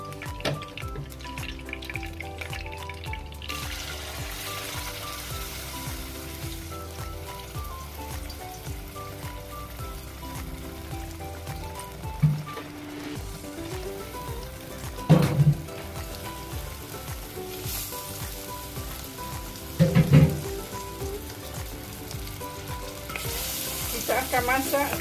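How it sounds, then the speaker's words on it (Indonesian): Spice paste for Kelantan-style dried fish curry frying in hot oil in a pot, a steady dense sizzle throughout with a few louder bursts of spattering, no talking. "Saya telah pun panaskan periuk dan saya letak sedikit minyak dalam ni, ya. Tujuan dia saya nak masakkan dulu rempah ni"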